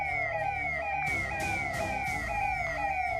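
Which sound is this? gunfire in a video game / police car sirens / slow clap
police car sirens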